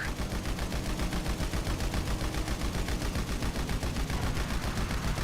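A tactical SMG in GTA V Online fires nonstop in a steady, rapid stream of shots that stays loud and close throughout, with no voices over it.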